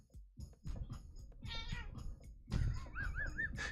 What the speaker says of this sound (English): He meowed without letting go of his bite.